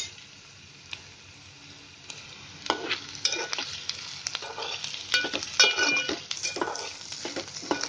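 Onion, garlic and ginger fry in hot oil over a full gas flame, a steady sizzle that grows louder partway through, broken by sharp scraping stirs and clinks of a spatula against the pan, close and without talk.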